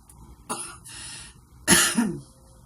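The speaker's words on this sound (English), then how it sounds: "They give me a dry cough that it just doesn't feel like that great." A person gives a short dry cough, then a second, louder, harsher cough about a second later, close up, with a brief breathy sound between them.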